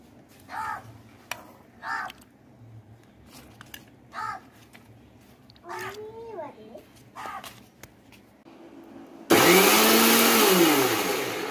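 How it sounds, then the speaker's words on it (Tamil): A mixer grinder blends tender coconut and ice apple, starting abruptly with a loud close whirring roar that follows stretches of speech, crow caws and background chatter. "அந்த ரெண்டையும் வந்து மிக்சியில் கொஞ்சம் அரைச்சி எடுத்துக்கலாம்."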